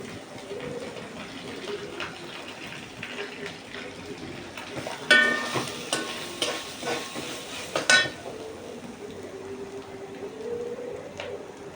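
Crushed coconut being stirred into a hot pan for jackfruit thoran, giving a steady low sizzle with scraping spoon strokes, louder clattering stirs in the middle and a faint background chirp.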